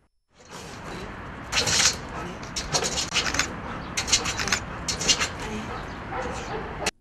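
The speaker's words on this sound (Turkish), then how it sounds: "İl Emniyet Müdürlüğü'nün narkotik dedektör köpeği Jack, eğitimlerinin ardından katıldığı operasyonlarda uyuşturucu satıcılarına darbe vurmaya devam ediyor" A police narcotics detector dog gives several close, sharp barks and yips in irregular bursts, with scratchy movement between them.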